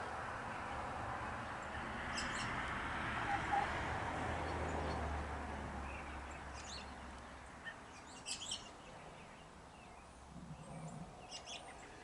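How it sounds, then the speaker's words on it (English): Songbirds chirp in scattered bursts high above a steady low rumble of a passing car, the traffic noise swelling and fading beneath the calls. "Listen to those songbirds as this car passes."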